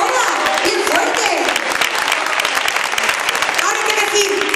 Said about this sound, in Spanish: ¡Aplaudan ahora! ¡Bien fuerte!